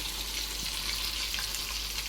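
Fish frying in white oil, a brief, even hiss of sizzling with a low background hum underneath.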